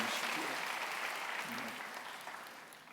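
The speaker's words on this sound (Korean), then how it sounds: "여러분 크게 박수로 환영하시지요." A church congregation at a dawn prayer meeting claps in welcome for a visiting missionary pastor. The applause is faint, dense and steady, and it fades slightly toward the end.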